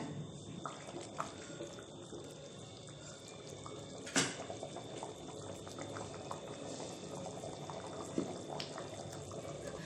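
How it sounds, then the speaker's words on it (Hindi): A pot of chicken tahari with rice and mint leaves comes to a boil on a gas stove at full flame, bubbling steadily and softly throughout, with a few faint clinks and no talking. "उबाल आने देंगे, फिर ढकेंगे हम।"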